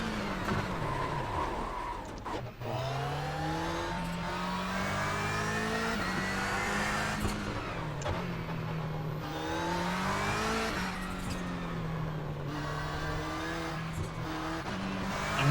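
A Subaru race car climbs the Mount Washington hill climb, its engine revving hard through steady gear changes and rising pitch sweeps, loud and close from inside the car, with no talking.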